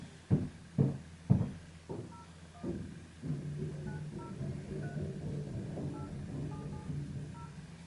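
Several soft knock-like taps, probably handset presses, start a phone call to a Tesla depot in Ireland, followed by a steady hum and faint repeated beeps of the line connecting, close and without talk.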